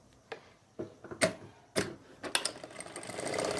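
A sewing machine starting a seam on palazzo pants, a few sharp separate mechanical clicks and taps that build into a faint steady whir toward the end, close and fairly quiet.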